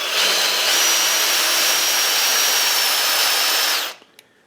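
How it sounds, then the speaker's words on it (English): A Metabo 18V brushless impulse hammer drill in drill mode whirs at high speed for nearly four seconds while removing a screw, its pitch rising as it spins up, then cuts off, followed by a small click. "we will be in drill mode and we'll remove the undamaged screw."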